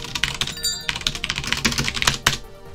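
Rapid typing on a computer keyboard while entering commands in a VM/ESA or z/VM mainframe editor, a close, dense patter of key clicks with a few louder thunks, irregular but continuous and alone.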